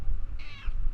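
A cat in the video game Mass Effect 3 lets out a single brief, whiny meow, fairly close and clear above a low rumbling background.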